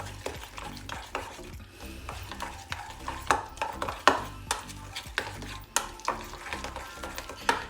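A spoon stirs a teratur meze mixture of lettuce and parsley with tahini in a bowl, giving repeated close scraping and clinking strokes with sharper knocks, continuous and unaccompanied.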